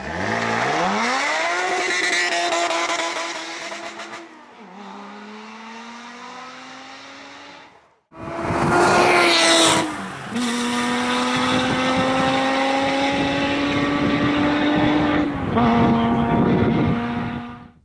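A Lotus Evora GTE prototype race car's raspy, raucous exhaust roars loudly as it revs up through the gears. It drops briefly, then returns even louder, rising in pitch across repeated upshifts.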